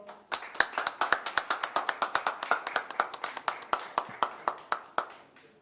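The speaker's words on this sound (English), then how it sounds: "Please give a round of applause." A single person claps at a seminar hall event, giving a steady series of about thirty separate, evenly paced claps that sound close and fairly quiet.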